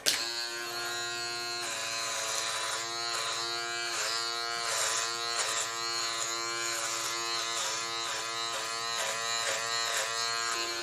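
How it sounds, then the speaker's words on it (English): Philips Series 5000 electric trimmer cutting through a beard, a steady close, loud motor buzz with rhythmic pulsing changes in pitch as it passes over the hair, running alone without talk. "Certainly no issues at all with the way that this clipper's cutting my beard"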